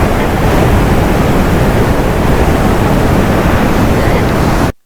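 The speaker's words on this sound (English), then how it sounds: "all this falling water is really," Iguazu Falls roars as a dense, unbroken wall of falling water, loud and close, holding steady throughout before cutting off abruptly at the end.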